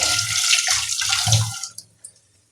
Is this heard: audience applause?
no